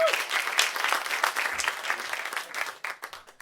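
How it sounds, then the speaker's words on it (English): A comedy club audience applauds and cheers as comedian Erik Knowles is welcomed to the stage, with brisk, fairly close clapping that thins out toward the end. "Clap it up for Erik."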